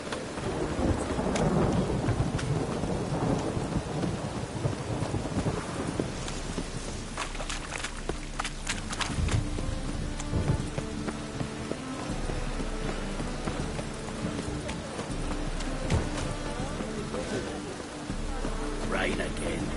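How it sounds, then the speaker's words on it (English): Steady rainfall and rolling rumbles of thunder in the video game The Witcher 3 on PS5, with an early heavy crash and continuous patter through the rest, under faint background sounds. "Rain again. Damn mages."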